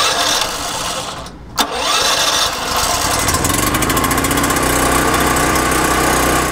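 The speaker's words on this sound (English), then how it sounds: "It's a 7-horsepower, 4-stroke engine that features an electric start," A 7-horsepower four-stroke engine on a 4,500-watt portable RV generator cranks briefly, catches with a sharp pop, then settles into a loud, steady, close-up running drone that holds to the end.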